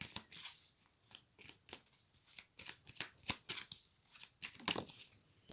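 Tarot deck being shuffled by hand, crisp riffling and flicking of cards in repeated bursts, close and soft, with no voice.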